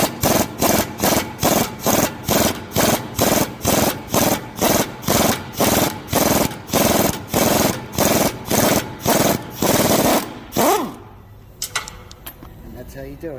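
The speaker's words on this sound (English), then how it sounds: "That's how you remove the seized up Loctite bolt on the subframes on the Ford Tauruses" Hard rhythmic scraping on a seized Loctite-coated rear subframe bolt of a Ford Taurus, about twenty loud regular strokes over ten seconds, then stopping into quiet handling noises.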